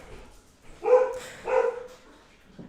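A dog barks twice, close and fairly loud, two distinct woofs about half a second apart with quiet room tone around them.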